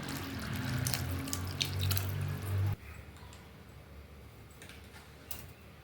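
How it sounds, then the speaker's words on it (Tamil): Tamarind water pours into simmering sundakkai kuzhambu in village-style cooking, a close splashing stream for about three seconds that cuts off abruptly and leaves a quiet bubbling with faint drips. "புளி கரைசல் சேர்த்துடலாம்."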